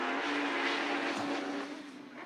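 Autograss race cars launch together from the start line, a dense, loud roar of several engines revving and accelerating as the pack pulls away, fading slightly toward the end.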